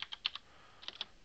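A computer keyboard taps out a brief run of clicky keystrokes, a few quick presses, a short gap, then a few more, close and fairly soft.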